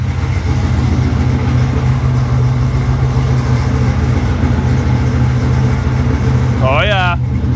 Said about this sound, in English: Just blowing some warm air now